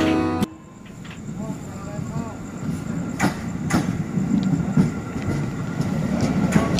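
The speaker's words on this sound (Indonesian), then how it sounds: "KRL yang masuk ini adalah KRL terakhir yang akan Stabling atau masuk Sepur Badung" KRL commuter electric train rolling into a stabling yard, a sharp clank at the start followed by rumbling wheels, squeals and repeated metallic clicks on rail joints, with people talking over it.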